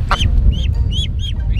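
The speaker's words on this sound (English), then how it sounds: "Return of the duck." A duck at the water's edge gives a quick series of short nasal honking quacks, five or six calls close by over a low rumbling background.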